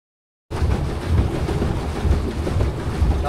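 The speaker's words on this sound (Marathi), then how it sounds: "आता आपण बोट परत करायला निघालेलो आहोत." A boat moving across the Manoli dam reservoir, with a dense rushing wash of water and wind that starts abruptly and stays loud and steady to the end.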